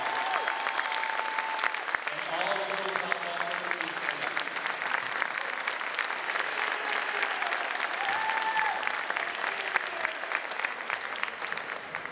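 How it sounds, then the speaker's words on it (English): An audience at a high school fall sports banquet applauds, with sustained, dense clapping throughout at moderate volume while a voice speaks briefly over the noise. "let's give them a big round of applause and good luck to the regional finals."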